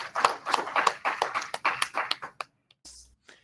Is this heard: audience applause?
yes